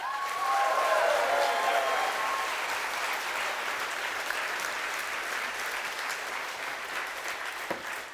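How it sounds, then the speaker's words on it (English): Convention audience at a CFz 2017 opening ceremony clapping for the venue manager, a full, steady round of applause that starts strong, with some whoops at the outset, and gradually thins over several seconds. "I'd like you to give a round of applause to Rizzo"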